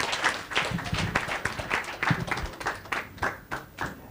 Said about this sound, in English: Let's give them another powerful round of applause